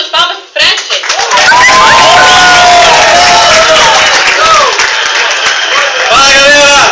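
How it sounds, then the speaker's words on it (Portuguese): A crowded meeting room breaks into loud, sustained clapping and cheering with whoops for a man named Fred, close and full, with a voice speaking over the noise near the end. "Uma salva de palmas pro Fred, gente."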